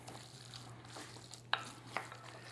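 Finely chopped dumpling filling is stirred in a bowl, giving soft, quiet wet squelches with a couple of sharper clicks of the utensil against the bowl, close up with no talk.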